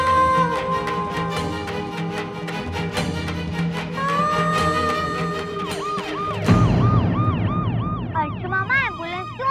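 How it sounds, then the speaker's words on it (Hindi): An ambulance arrives on a residential street, its siren wailing loudly and close by in repeated rising and falling sweeps, joined by a second warbling tone partway through over a background of traffic. "एम्बुलेंस क्यों आई है?"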